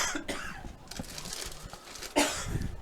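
A person coughs several times in quick, harsh bursts close to the microphone, with a throat-clearing sound, in the broadcast booth at a high school football game between Arkadelphia and Ashdown.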